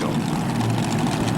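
Bruce Hutcherson's Macon Bacon Special pulling tractor rolls out at a 1987 TNT tractor pull in Montgomery, a loud, steady, dense engine roar with no gaps.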